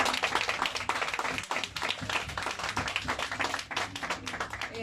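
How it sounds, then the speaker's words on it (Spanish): An audience applauds steadily at a conversation event in a hall, with dense, close clapping that holds for several seconds without a break. "Sí, va el aplauso"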